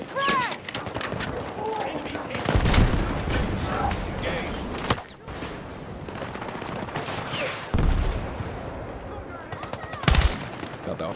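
Battlefield 6 video game combat with a frag grenade launched amid gunfire, bursts of automatic fire and sharp blasts layered over mechanical clatter, loud and busy throughout.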